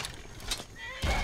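A horse neighs loudly in Skyrim, a rising whinny near the end of a short stretch of game sounds with faint rustling and hoof-like thuds underneath.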